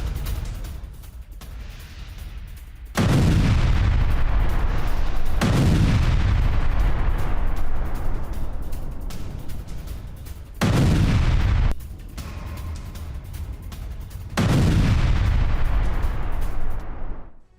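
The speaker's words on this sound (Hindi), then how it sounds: "रूस के सैन्य ट्रक में जोरदार धमाका" A series of heavy booming blasts from an exploding military truck, three or four deep explosions with long rumbling tails, separated by quieter stretches of background noise.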